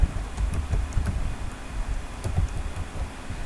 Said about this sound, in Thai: ดับเบิลคลิกลงไปแล้วก็พิมพ์เลยครับ